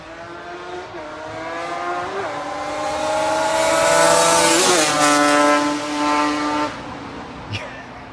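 A Yamaha Banshee ATV, restored after sitting for 14 years, rips past under hard riding, its engine revving in a loud rising and falling two-stroke whine that builds to a peak and shifts pitch as the quad passes.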